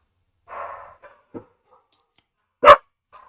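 A dog indoors gives a few sharp, close barks with short gaps and soft breathing between them, loud against an otherwise quiet room.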